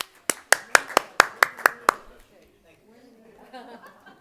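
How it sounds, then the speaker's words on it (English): At a college board meeting, a single pair of hands claps about nine sharp, close, evenly spaced times, then stops and quiet speech follows. "We're in applause mode."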